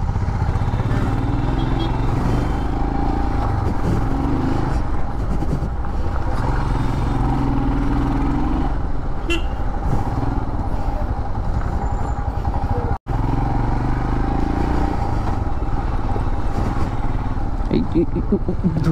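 Royal Enfield Himalayan 411 motorcycle leaving the road to ride off-road, its engine droning steadily and close throughout under a rider talking over wind noise.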